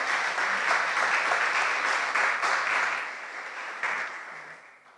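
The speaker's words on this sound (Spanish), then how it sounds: "Con un fuerte aplauso, por favor," An audience at a university event claps for guest speakers, a dense, steady burst of applause that gradually thins and fades toward the end.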